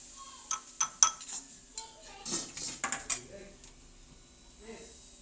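Fried ginger is scooped out of a pan in a home kitchen, with scattered close clinks and scrapes of a spoon against metal, a few sharper taps, and faint speech in places.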